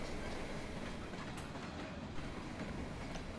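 St Lawrence & Atlantic freight train 512, running from Lewiston Junction to South Paris, rumbles past steadily with rhythmic wheel clatter, a continuous moderately loud roar with no voices.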